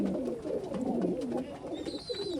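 Giribaz pigeons coo softly in rolling, repeated phrases at a pigeon farm near Sonamasjid, Rajshahi, close by with no voices over them.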